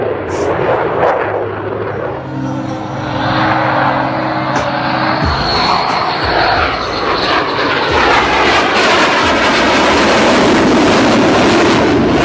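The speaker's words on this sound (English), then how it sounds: "The F-22 is a supersonic, multi-role, and highly agile stunt fighter with a fully internal combat weapon zone." A Lockheed Martin F-22 fighter jet flying at an air show, a loud continuous roaring engine rumble that swells and shifts as it passes, with an announcer talking over it.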